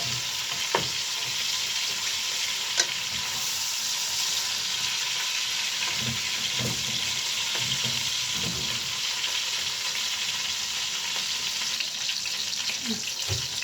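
Chicken pieces sizzle and fry steadily in a pan for a rice kabsa while a utensil stirs and scrapes them now and then, the crackle close and continuous, with no one speaking.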